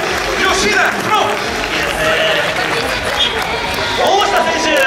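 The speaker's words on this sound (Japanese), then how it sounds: "皆さん大きな拍手で吉田プロ" An audience claps and cheers as a player is called onto the stage, steady crowd noise with an announcer talking over it throughout.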